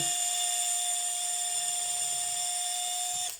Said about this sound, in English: Second step is to go up to a bigger drill bit, and I'm going to drill through